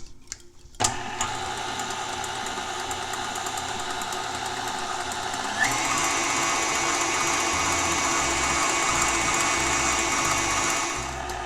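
Electric hand mixer beating mango cheesecake batter in a bowl, a steady whirring motor hum that runs continuously after a brief start, growing slightly louder and busier halfway through, with no talking.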